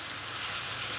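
Tomatoes frying with whole spices over high heat for a khara masala daal, a steady bright sizzle that holds evenly through the short moment with no talk.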